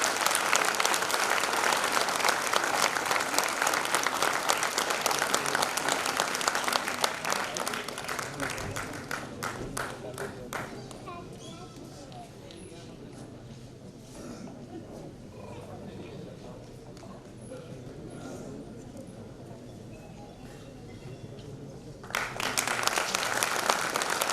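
Audience applause welcoming guests onto the stage at a bank's fifth anniversary event, loud and sustained for the first several seconds, then thinning into scattered claps and murmuring crowd noise before a fresh burst near the end.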